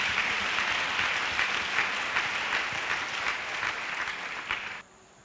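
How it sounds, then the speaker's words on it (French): A church congregation claps together in sustained, dense applause at close range, continuing evenly before stopping abruptly. "Let's clap to Jesus Christ."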